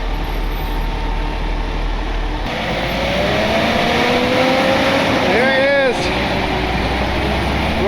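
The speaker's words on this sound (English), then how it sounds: "Rollback's first time driving into its new yard and loaded with its first recovery." A rollback tow truck rolls into its new yard loaded with a wrecked truck cab, its engine a loud steady rumble with a rising whine near the end.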